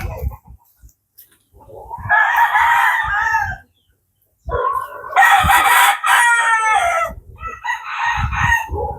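Home-kept chickens and breeder fowl, with a rooster crowing loudly and near in two or three long calls, broken by short clucks and low scratchy noises between the crows.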